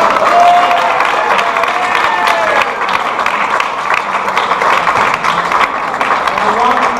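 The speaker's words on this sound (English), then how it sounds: "Give her a round of applause." Audience applause at a local magic club show, a steady wash of clapping with some crowd murmur and cheering, with talk partly mixed in throughout.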